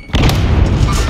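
A frag grenade explodes in a military shooter game, a sudden loud boom that swells and rumbles on densely for about a second.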